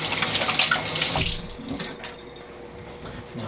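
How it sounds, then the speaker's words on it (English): Hands washed under a running kitchen tap, a loud steady rush of water that cuts off partway through, leaving quieter drips and faint movement. "I'm gonna wash my hands"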